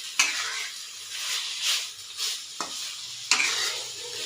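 Pork halang-halang, a Bisaya dish, sautés in a pan with seasonings, giving a steady close sizzle broken by three sharp scrapes of the spoon stirring the meat.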